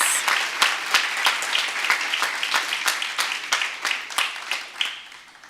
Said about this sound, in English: Let's have another big round of applause for Officer Ramirez.